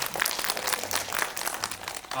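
Applause from the audience at a Korean film screening Q&A for the movie Pagwa, honoring actress Lee Hye-young... dense, steady clapping from a seated crowd, lively and continuous throughout.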